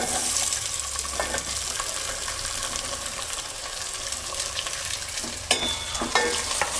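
Onions fry with lightly browned garlic in a pan for dhaba-style dal makhani, a steady close sizzle with scattered stirring scrapes and a couple of sharper clinks near the end.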